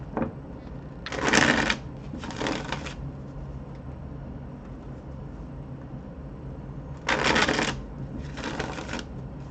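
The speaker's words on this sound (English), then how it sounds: "I'll shuffle these for you guys." Tarot cards shuffled in two quick riffle bursts, a pause, then two more riffles, crisp and close against a low steady hum.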